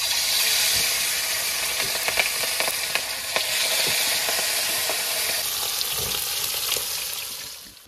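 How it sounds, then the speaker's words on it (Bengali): Hilsa fish pieces rubbed with salt and turmeric fry in hot oil, giving a loud, continuous sizzle with scattered pops and crackles for several seconds. "ইলিশ মাছ ভাজা হচ্ছে।"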